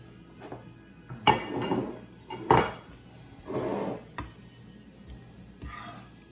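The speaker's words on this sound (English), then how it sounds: "So you just kind of want to slice them in strips like this." A chef's knife slicing vegetables into strips on a cutting board in a home kitchen, with a few sharp knocks and clicks of the blade hitting the board in separate bursts, close and fairly quiet, with no talking.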